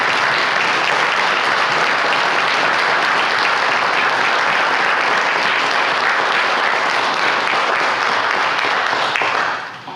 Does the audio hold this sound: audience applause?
yes